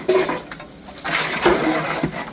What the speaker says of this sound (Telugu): మొత్తం ఒకసారి కలిపేసుకోవాలి.